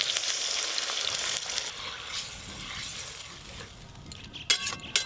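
Bengali-style masala frying in oil in a pan with a little water added, giving a steady close sizzle, with occasional clinks and stirring scrapes toward the end and no talking.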